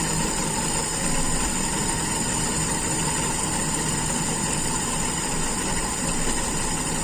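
Steady engine idle from a car whose stock Aisan carburetor is being adjusted, a continuous even hum with a constant vibrating drone and no talk.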